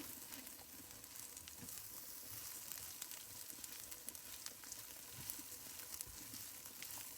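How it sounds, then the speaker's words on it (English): Onion sautéing in a pan while rice is cooked gives a quiet, steady sizzle with faint crackles and small pops throughout. "we're going to saute this with the onion for another minute"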